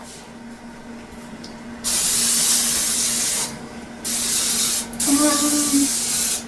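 Baking spray hisses from a can in bursts while baking at home: a long spray, a pause, then two more sprays, close and loud, with a brief spoken remark.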